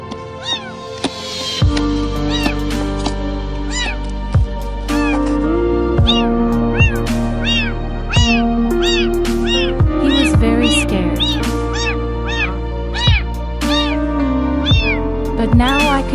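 A kitten trapped inside a pipe meows repeatedly and loudly, high plaintive cries coming every second or so over a steady low hum, close and alone without talk.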